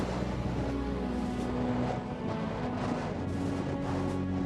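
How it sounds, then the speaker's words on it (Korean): Strong, near-typhoon wind blowing at sea off Ulleungdo amid heavy surf, a constant loud roar with buffeting gusts on the microphone and a low rumble of waves beneath. "아따 바람 많이 불어 참."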